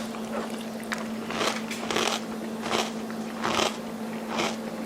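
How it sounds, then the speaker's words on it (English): Crunchy bites and chewing of Honey Bunches of Oats cereal, captured up close for mukbang-style ASMR with a clip-on mic: about five distinct crackling crunches at regular intervals over a faint steady hum. "This is the brand of cereal that I'm eating right now. It's the Honey Bunches of Oats cereal."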